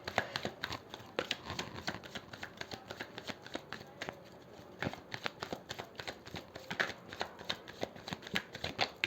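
Tarot cards shuffled by hand, a steady run of soft riffling flaps and card slaps close by with no talking.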